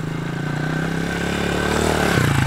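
A motorcycle engine runs under steady throttle in third gear during a first jump attempt, holding a droning note that swells and shifts upward near the end.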